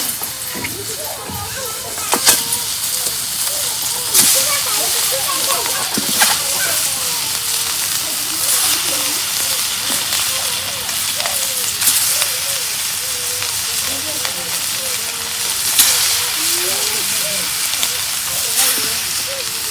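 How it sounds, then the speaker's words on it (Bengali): Dried fish seasoned with salt and turmeric fries in hot oil on a griddle, a loud, continuous close-up sizzle and crackle with occasional sharper pops, and a voice speaking now and then. "এখানে আমি তেল দিয়ে দিই তেল গরম হচ্ছে মাছ দিয়ে"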